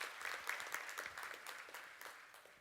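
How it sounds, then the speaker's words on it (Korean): Steady applause from a conference keynote audience, dense clapping that fades slightly toward the end, heard faintly as if from a distance. "박수로 감사합니다."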